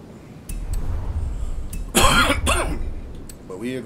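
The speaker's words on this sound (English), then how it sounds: "Excuse me for the coughing." A raspy cough and throat clearing close to the microphone, a few rough bursts, then a brief vocal sound near the end.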